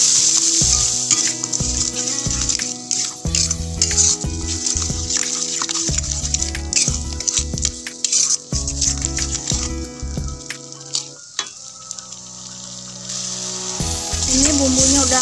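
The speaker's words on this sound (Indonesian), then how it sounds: "Kemudian ini kita aduk-aduk." Beef skin (kikil) fries in a pan with spices while a utensil stirs it, giving a loud continuous sizzle under repeated scraping strokes and knocks against the pan.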